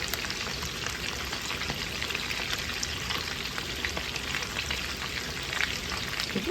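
Potatoes fry in hot fat in a pan for crispy home fries, giving a steady, dense sizzle and crackle throughout with no talking.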